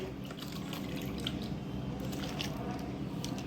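Sliced potatoes for white wafers are squished and sloshed by hand in a bowl of water, giving soft, continuous wet splashing and squelching that stays fairly quiet, close by, and unbroken by any voices.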